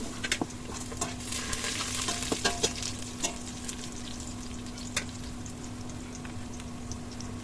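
Onion fries with spices in a pan for a beef and raw jackfruit curry: a continuous soft sizzle with scattered clicks and scrapes of stirring, fairly quiet and without talk.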